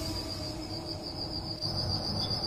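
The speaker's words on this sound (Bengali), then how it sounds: "শুধু ঝিঁঝি পোকার একটানা ডাক" Crickets chirp continuously at night, a steady high-pitched trill alone over a faint low background hum.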